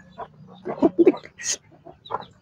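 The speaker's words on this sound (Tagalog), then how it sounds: "Ayan po yung mga sisuko." A small group of thirteen chicks (sisiw) being fed makes short, bright peeps and soft clucking calls close by, in a few quick bursts.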